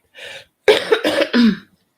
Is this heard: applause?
no